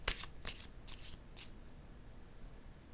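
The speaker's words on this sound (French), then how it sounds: "Je vais déposer une carte ici." Cards handled on a table during a reading, a few short crisp flicks and slaps near the start, then quiet.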